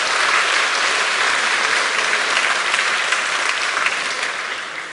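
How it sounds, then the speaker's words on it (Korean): A room full of people at a church service clapping steadily, loud and sustained, tapering off slightly at the end. "우리 잠깐 일어서시면 박수로 환영하겠습니다."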